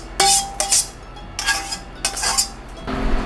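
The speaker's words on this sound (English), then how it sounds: "I'm going to dump everything right into the casserole dish, just like this." Ingredients for deviled sausages dumped into a casserole dish, several loud close clattering clinks and scrapes of utensils against the dish in irregular bursts, with no talking.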